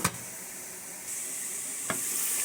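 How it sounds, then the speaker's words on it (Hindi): Biryani masala with chicken cooking in a covered pot, a low steady sizzle and hiss that swells slightly partway through, with a brief knock at the start and another near the end. "बिरयानी का मसाला यहाँ पर पक रहा है"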